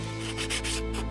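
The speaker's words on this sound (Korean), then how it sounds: "처음으로 할 거는 이 나무를 간단히 사포질을 할 겁니다" Sandpaper rubbed back and forth over the rough cut edges of a small wooden piece, a steady close scratchy rasp in repeated strokes with a constant low hum underneath.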